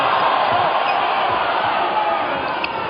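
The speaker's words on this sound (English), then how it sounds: "Crowd's going off, thinking surely that was a lift" A volleyball arena crowd roars steadily and loudly throughout a World League match between Australia and Italy, a dense sustained cheer with no break, swelling slightly near the end.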